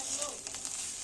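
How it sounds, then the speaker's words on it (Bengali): Dried fish is stirred in a pan while it fries, giving a faint, brief, steady sizzle with a few soft scraping stirs mixed in. "আম্মু এটাকে ভালো করে নাড়াচাড়া করে ভেজে নিচ্ছে"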